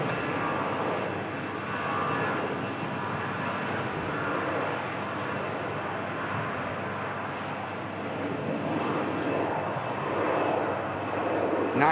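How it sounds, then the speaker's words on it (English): An EasyJet airliner departs, a steady, moderately distant jet engine drone rising slightly toward the end, with faint talk at times. "an EasyJet about to depart"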